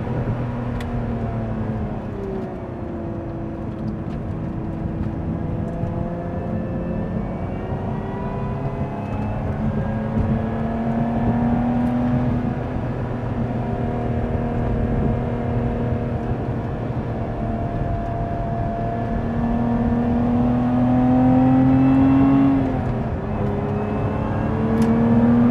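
A Lotus Emira sports car's engine drones and climbs through the revs on a test drive, heard from inside the cabin as a steady whirring hum that swells into a louder rising pull toward the end, with no talk over it.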